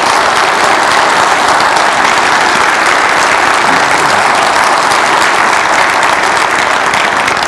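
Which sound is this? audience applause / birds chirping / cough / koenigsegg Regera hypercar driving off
audience applause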